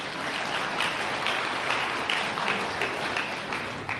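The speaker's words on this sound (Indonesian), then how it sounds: "Kalau saudara mau tepuk tangan boleh" A church congregation applauds in a steady, dense wash of clapping that holds at an even level throughout, with no voices over it.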